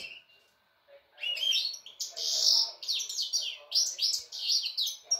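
Small birds chirp and twitter in a busy, overlapping chorus after a brief quiet start, bright rapid calls fairly close and continuing throughout.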